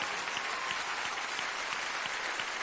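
Steady audience applause in a French television variety show studio, a dense even wash of clapping heard throughout with no voices on top.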